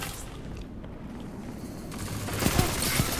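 Gunfire in Destiny 2, a dense rapid rattle of shots that swells louder in the second half, with booming low thuds under a constant background of game noise.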